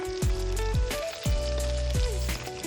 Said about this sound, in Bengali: তো দেখো আমি মাছগুলি সুন্দর করে ভেজে নিচ্ছি লাল লাল করে।